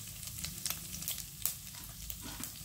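Cinnamon bark dry-roasting in a pan with pepper and mustard seeds for sambar powder, giving a steady soft sizzle with faint stirring scrapes and a few small crackles, no voices.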